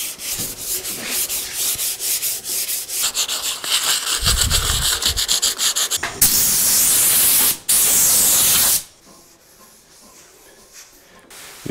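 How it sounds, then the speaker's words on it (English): Rapid rhythmic brush scrubbing rasps close up on a Caterpillar D4 engine, then long hissing brake cleaner sprays burst loudly twice, followed by quieter faint rubbing. "I spent a lot of time with a brush and brake cleaner to get it all cleaned up"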